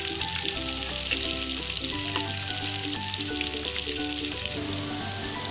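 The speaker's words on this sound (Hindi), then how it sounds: "इसे हमें हाई फ्लेम पे ही यानी तेज गैस पे इसको फ्राई करना है हमें" Jackfruit pieces fry in hot oil over a high flame, giving a loud, steady, close sizzle that runs unbroken alongside a soft background melody.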